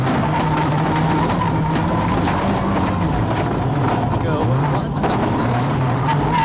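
Onboard engine of Marco Martin's Ford Focus rally car at the 2002 Rally Argentina, loud and revving hard with gear changes, road roar and rattles, with commentary talking over it.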